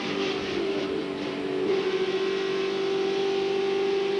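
A NASCAR Winston Cup stock car at Talladega Superspeedway in 1997 roars steadily in a pack of cars, its engine note holding a sustained drone with a slight dip as it backs off, loud and continuous without talk.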